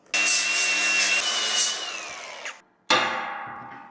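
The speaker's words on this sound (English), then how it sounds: "I'm going to grind off some of that weld." A grinder works the weld on a steel fire ring that was crushed by a forklift: a loud, steady abrasive whine for over two seconds that slowly drops in pitch, a short pause, then a second burst of grinding that fades out.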